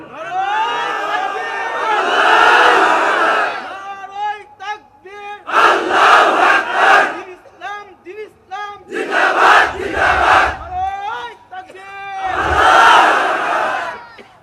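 A crowd chanting and shouting "Allahu Akbar" in loud, repeated surges, with dense massed voices swelling and falling across several bursts, close and forceful like a rally slogan.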